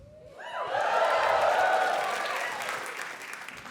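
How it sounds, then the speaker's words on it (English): Audience applause at a stand-up comedy show, a close, dense burst of clapping that swells quickly, holds for a couple of seconds and then slowly fades. "You're absolutely right to applaud."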